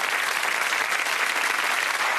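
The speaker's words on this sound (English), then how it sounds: "Give him a round of applause." A television game show studio audience gives a contestant a round of applause, a thick, even wash of clapping, loud and close, sustained without a break.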